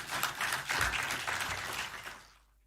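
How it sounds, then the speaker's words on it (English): Applause from an audience at a live news broadcast event, a dense burst of clapping that swells briefly and then fades out toward the end, heard fairly clearly on its own. "so you may clap for him"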